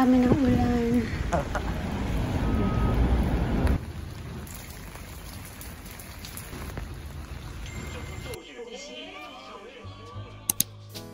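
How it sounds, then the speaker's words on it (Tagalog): Steady rain patters and hisses throughout, loud at first then softer, with faint voices and a few light clicks near the end. "Inabot na kami ng ulan."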